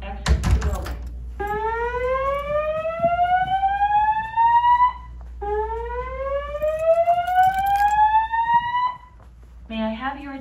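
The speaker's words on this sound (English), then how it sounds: "There has been a fire alarm reported in the building." A building fire alarm sounds at a steady loud level, with repeated rising electronic whoops that each sweep upward for about four seconds, plus a brief burst of other tones at the end.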